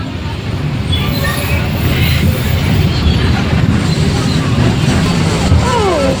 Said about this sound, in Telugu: traffic jam guys, traffic jam guys